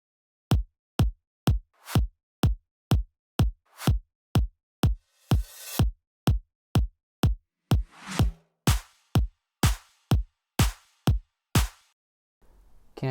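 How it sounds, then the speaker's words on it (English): Full drum loop from a remix built with project stems: steady, evenly spaced punchy kick and clap hits repeating about twice per second, with bursts of bright noise and hi-hat texture layered in, loud and alone before cutting off near the end. "Now let's hear everything together,"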